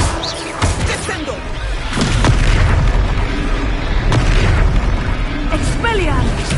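A spell impact in Hogwarts Legacy lands as a heavy booming blast, with a deep rumbling explosion that swells and holds under dense battle noise and a voice.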